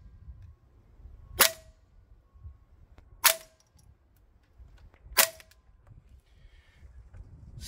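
A Maruyama SCW9K Pro G airsoft rifle fitted with a suppressor fires three sharp, close shots spaced about two seconds apart. Each carries a brief metallic ring over a quiet, low rumbling background.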